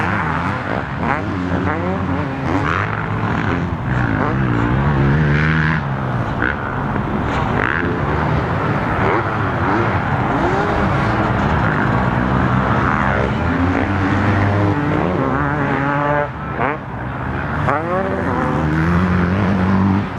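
Motocross bikes racing at the MX Open round in Goulburn, several engines revving and whining through gear changes, loud and continuous as they pass, with a commentator talking over the noise.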